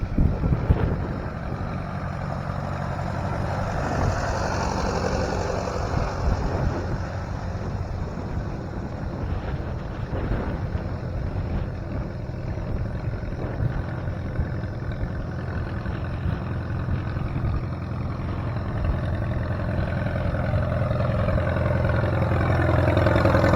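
Old tractor engines running at an annual tractor show, a continuous rough mechanical rumble with wind buffeting the microphone, steady throughout and growing slightly louder toward the end.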